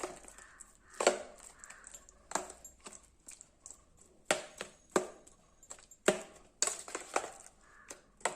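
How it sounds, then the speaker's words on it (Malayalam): Spoon stirring sugar syrup into a glass of homemade summer juice, giving a series of sharp clinks and taps against the glass at an uneven pace, close and fairly quiet, with no talking. "എന്നിട്ട് നന്നായിട്ടൊന്ന് ഇളക്കി"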